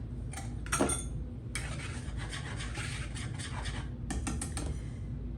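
Salt and dry ingredients being whisked together in a medium bowl, soft scraping and light metallic clicks in quick bursts, close and fairly quiet.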